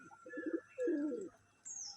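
Domestic pigeons coo softly in two or three low, throaty bursts, with faint chirps and a thin high tone over a quiet background.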